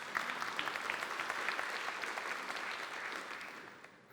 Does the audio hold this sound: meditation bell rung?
no